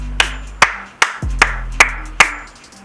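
Six sharp, separate hand claps ring out close and loud, evenly spaced about half a second apart with short decays between them.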